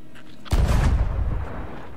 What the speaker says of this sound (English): That fucking thing's shooting at us again.